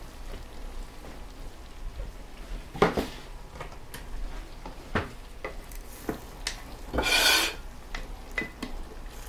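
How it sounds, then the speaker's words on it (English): A knife saws through a slice of freshly baked meatloaf with soft rasping strokes and scattered taps against a board, ending in a louder scraping burst. "Let me cut myself a slice because that looks really good."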